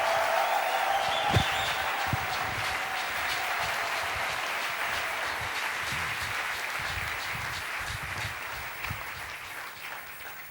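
Congregation clapping and applauding at a church service, a dense steady wash of many hands filling the room for the full length, with a few sharper claps standing out and faint voices underneath.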